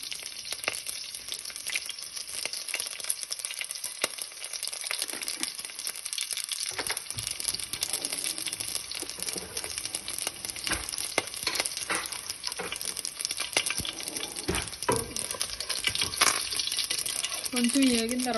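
Chopped onions, mustard seeds and cumin sizzle and crackle steadily in hot oil in a pan, close and loud throughout, with occasional stirring and rustling.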